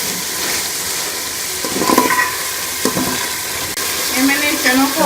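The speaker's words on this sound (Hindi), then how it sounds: "2 से 3 मिनट अच्छी तरह चनों को मसाले के अंदर भून लेंगे" Chickpeas frying in a spice masala in a home kitchen pan sizzle steadily and loudly as they are stirred, with scraping strokes and a few louder clatters partway through.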